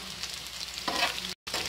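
Green chilies and spices frying in a pan for mixed daal, a close sizzle with a brief stirring burst, cut by a moment of silence near the end.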